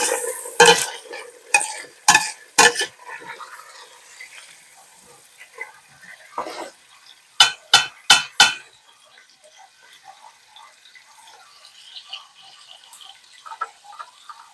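Cooked low-carb cheeseburger soup ingredients being smashed and pressed down into a bowl with a utensil, giving sharp clattering knocks in short bursts separated by quieter scraping, close and alone.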